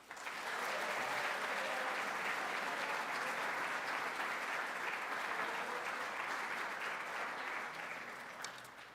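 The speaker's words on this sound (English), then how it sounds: "And could we give one last round of applause to all of today's award winners?" Steady applause from a school awards ceremony audience fills the room for the award recipients, a dense, even wash of clapping that holds strong throughout before easing slightly at the end.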